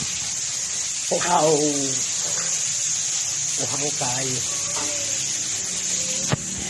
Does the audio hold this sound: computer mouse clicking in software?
no